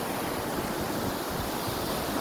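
Sea waves washing on the shore, a steady broad rush of surf heard alone, without voices.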